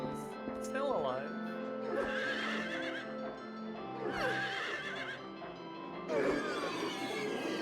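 In the game Silent Hill 3, a horse whinnies several times, with loud neighs recurring every couple of seconds over hoof clops and a steady background tone.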